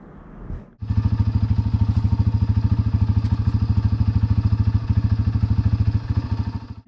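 A Yamaha TTR125 dirt bike engine starts and settles into a loud, steady, rapid idle with an even thumping rhythm as it warms up close by.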